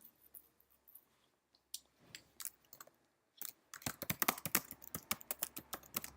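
Keystrokes on a computer keyboard while entering an assignment title and due date, starting as sparse, hesitant taps and turning into a fast, steady run of crisp clicks close to the microphone.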